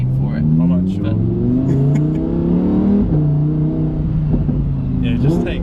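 A Lamborghini Huracan Performante accelerating hard from a launch-control start, its engine note climbing in pitch through several rising sweeps with shifts between them, loud and close inside the cabin, with talking over it.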